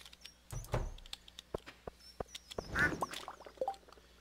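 Duck quacking in the farming video game Stardew Valley, a few short nasal quacks near the end among soft game clicks and thuds, with no talk.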